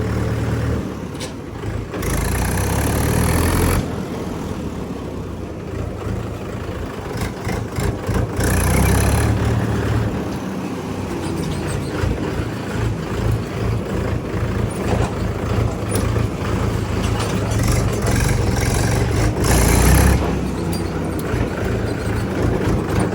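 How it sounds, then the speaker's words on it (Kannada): A four-cylinder tractor engine runs loud and close with a steady, smooth rumble, its level rising and dipping in a few broad surges throughout. "ನೋಡಿ ಹಾಗೆ ಈ ಟ್ರ್ಯಾಕ್ಟರ್ನ ಸೌಂಡ್ ಇಷ್ಟು ಸ್ಮೂತಾಗಿ ಕೇಳೋಕ್ಕೆ ಕಾರಣನೇ ಇದ್ರ 4 ಸಿಲಿಂಡರ್ ಇಂಜಿನ್."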